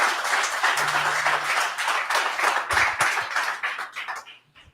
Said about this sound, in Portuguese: Um aplauso a Jesus.